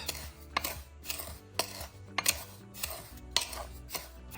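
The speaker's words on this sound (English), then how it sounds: "And we're gonna mix this really good." Salt and ground coriander cure being mixed in a bowl, with repeated clinks and scrapes of a utensil against the dish in an irregular rhythm, fairly close and with no talk.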